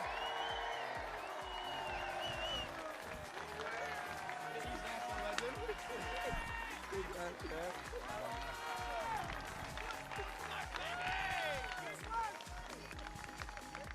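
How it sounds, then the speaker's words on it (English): A crowd applauds and cheers at a U.S. Open Cup soccer trophy ceremony, a steady wash of clapping running throughout beneath loud amplified voices. "So everybody give a huge round of applause to my boy who holds down East Nashville, Alex Will."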